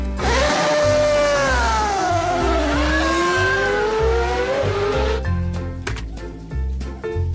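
A toy Formula One race car plays a loud, continuous engine whine that sweeps up and down in pitch, ending with a short burst of sharp clicking and rattling.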